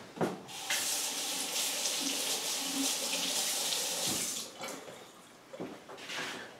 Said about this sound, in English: I'm going to rinse this knife